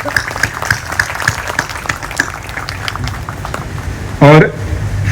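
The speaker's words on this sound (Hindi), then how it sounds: "अगर आप सबसे गुजारिश करूँ कि तालियां बजाएं" An audience claps in a rhythmic, fairly even patter at a press gathering, with voices talking over it and a short sharp tonal sound near the end.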